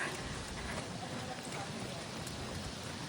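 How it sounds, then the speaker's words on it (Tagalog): Steady rain falls outdoors during a marathon training run, a dense broadband hiss filling the whole stretch evenly without pauses. "umuulan na"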